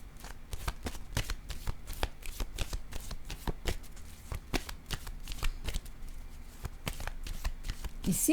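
Tarot cards being handled and laid down on a table, a quick run of crisp slaps and riffling snaps at an irregular pace, close and fairly quiet, with no talk.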